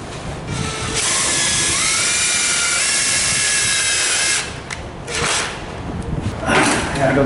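A power drill driving a self-tapping screw through a metal stairway door frame while fitting a continuous hinge, a loud steady whine for about three and a half seconds, then slowing, stopping and restarting in shorter bursts.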